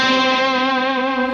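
A jazz ending on electric guitar walks down from the fifth to the third and closes on a tritone, heard here as one sustained, ringing chord held loud and steady on its own.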